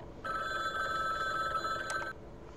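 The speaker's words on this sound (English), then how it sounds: "The phone rang." A telephone in the video game Rainswept rings in a single sustained electronic trill lasting about two seconds, clear and moderately loud over a quiet room tone, then cuts off.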